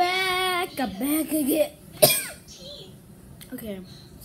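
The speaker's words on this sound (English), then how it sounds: "Okay, just coughed." A child coughs once, sharp and close, between stretches of the same child's chatter.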